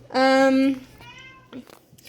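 A single loud, close meow in a home kitchen during pancake making, followed by a fainter, shorter second call.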